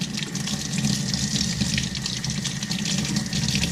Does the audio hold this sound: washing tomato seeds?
yes